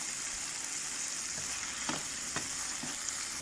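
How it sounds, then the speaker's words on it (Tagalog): Sardines sautéing in a pan, with a steady frying sizzle throughout and a few soft scraping stirs as the fish is broken up into its sauce. "igigisa na natin ang sardinas"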